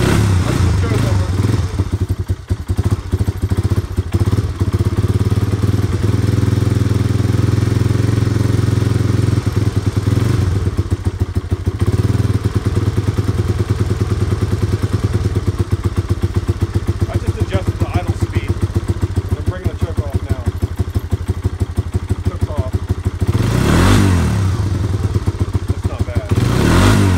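A Honda Big Red ATC 250 ES engine idles rich with the choke on, a steady loud putter close by that holds throughout with a brief rise near the end, while a person talks over it.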